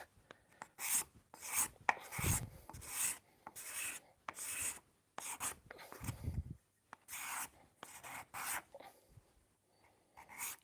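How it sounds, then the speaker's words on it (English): Card scraper scraping wood in a home workshop, with repeated rough rasping strokes in an irregular rhythm, loud and close, with short pauses between strokes and no talk. "the grain direction shouldn't actually matter when you use a card scraper"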